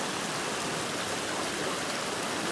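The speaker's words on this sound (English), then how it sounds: "we got a perfect running sluice" Water rushes steadily through a Mini Max gold sluice fitted with miracle mat, expanded heavy-gauge metal and high-low riffle matting, giving a continuous, even splashing hiss with no talk over it.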